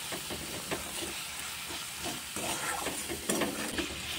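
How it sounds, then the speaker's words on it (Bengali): Garlic and green chili paste stirred in a pan with salt and turmeric, a steady low sizzle and hiss with soft scraping strokes of a spoon, alone and fairly faint. "এবার একটু নাড়াচাড়া করে নেব।"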